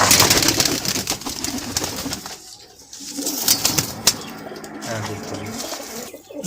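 Pigeons in a Lahore pigeon setup coo in low, throaty bursts amid a noisy outdoor din of fluttering and rustling, with a deep coo standing out near the end.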